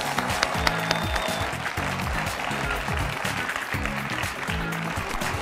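Studio audience applause welcoming a contestant on a quiz show, continuous clapping mixed with loud rhythmic entrance music carrying a strong low beat throughout.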